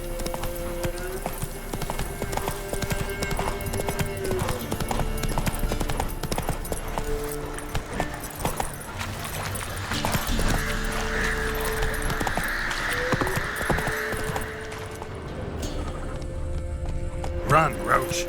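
Horse hooves clip-clop at a galloping pace in The Witcher 3, an occasional whinny among them, running steadily under game music and voices throughout.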